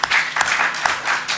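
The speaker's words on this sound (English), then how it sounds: "stop clapping because it slows it down" Audience applause at a documentary festival panel discussion, a dense steady patter of clapping with a few sharper accented claps, filling the short moment without talk.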